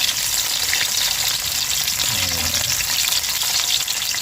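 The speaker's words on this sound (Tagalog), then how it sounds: "Ngayon natin i-prito yung ating tilapia." Tilapia frying in hot oil makes a loud, continuous sizzle close by, with a stirring or shifting sound partway through.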